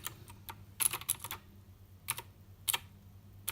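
Typing on an Obins Anne Pro wireless RGB mechanical keyboard: quick clusters of crisp key clicks with short pauses between bursts, close and fairly quiet.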